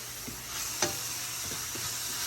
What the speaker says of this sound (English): Drop it in, mix it a little bit.